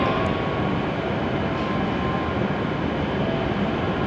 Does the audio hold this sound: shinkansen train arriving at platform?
yes